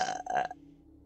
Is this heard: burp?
yes